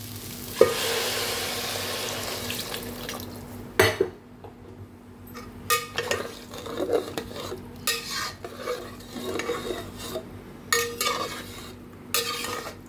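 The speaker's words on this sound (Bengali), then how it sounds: "জলটা ঢেলে দিয়ে এটা আমি 2 মিনিট রান্না করব ঢাকা দিয়ে" Water is poured into a pan of cooking dalia (broken wheat) sweetened with a little sugar, giving a hissing rush followed by utensil clinks and scraping stirs against the pan.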